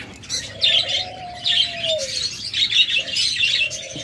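Caged doves and budgerigars at a bird seller's, with bright chirping and twittering chatter over a long low cooing note, close and continuous.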